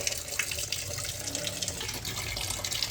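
Tap water runs steadily into a sink at a beach campsite in Calatagan, Batangas, a continuous gentle splashing as dishes are washed, with no talking.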